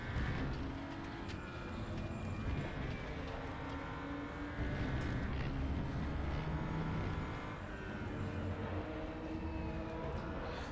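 Race car engine in the RaceRoom Racing Experience game drones at a steady, loud pitch with slight rises and falls, continuous and unbroken by any voices.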